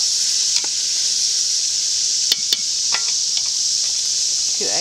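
Onions sizzle and caramelize in a pot for onion soup, a close, continuous frying hiss broken by a few light scrapes and clicks of stirring.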